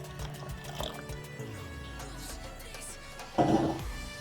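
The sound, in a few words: rice and water going into a pot to boil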